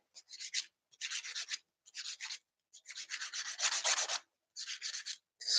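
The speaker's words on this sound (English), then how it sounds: "Trying to get good at filing it this way" A hand file rasps across a polygel acrylic nail in short rhythmic bursts of scratchy rubbing, close and quiet, separated by brief pauses.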